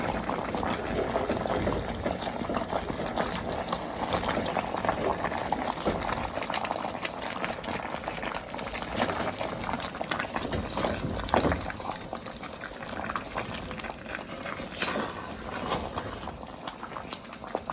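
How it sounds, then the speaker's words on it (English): Constant crackling sizzle of chicken with cinnamon bark, bay leaves and ginger cooking in its own juices in a hot pot, with occasional sharper pops and a brief clatter, no voices. "it's sizzling in its own juices."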